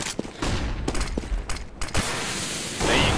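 Gunfire in the video game CS:GO crackles in several quick, sharp bursts with brief gaps between them, then a final louder burst, close and alone.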